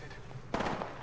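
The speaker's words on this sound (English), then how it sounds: "Gunshots." A sudden, loud gunshot crack from a video game cuts through quiet background noise about halfway in, followed by a short rumbling tail.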